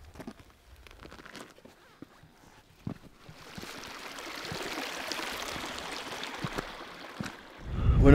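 Mountain stream on Kilimanjaro, a steady wash of flowing water that rises after a few seconds, with scattered clicks and knocks and a close rumble at the end.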